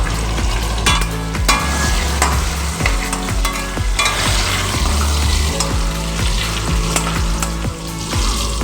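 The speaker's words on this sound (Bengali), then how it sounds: "লবণ হলুদ ভালো করে আলুগুলোকে লাল লাল করে আমি ভেজে নেবো" Potatoes frying with salt and turmeric in a pan, sizzling loudly and steadily up close as a spatula stirs and knocks against the metal in repeated bursts.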